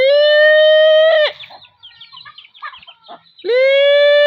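Loud, close chicken calls: a long drawn-out squawk, a burst of quick clucking chatter, then another long squawk.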